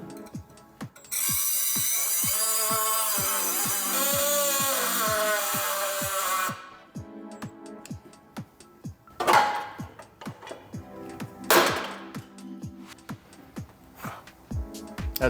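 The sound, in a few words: cutoff wheel cutting a bolt head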